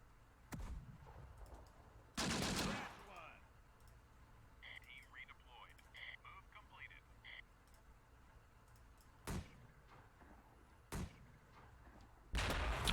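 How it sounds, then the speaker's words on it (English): Mortar fire in the video game Close Combat: The Bloody First lands as several sharp, loud blasts spaced irregularly. A quiet ticking texture and faint chirps fill the gaps between impacts. "There we go, mortars coming in."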